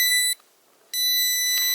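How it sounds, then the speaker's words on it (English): A power adapter gives off two shrill electronic beeps, close and fairly loud, each held steady for about a third to most of a second, with a short silent gap between them. "This is the thing that's beeping."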